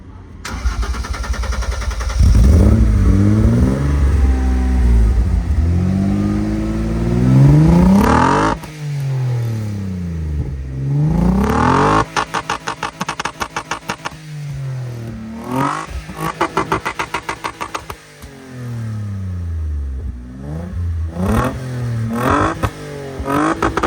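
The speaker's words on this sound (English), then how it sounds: "there it is, 275-inch exhaust. Let's hear how it sounds." A Mercedes 190E W201 drift car with an M104 engine and a newly fitted exhaust starts up, then revs hard several times. Loud, close bursts climb and fall with choppy idle between them.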